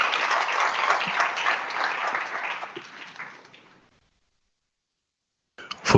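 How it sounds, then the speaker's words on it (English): Audience applause at a startup demo day, a dense burst of clapping that fades out over about four seconds, followed by silence and a brief sharp sound at the end. "Can we give him another round of applause?"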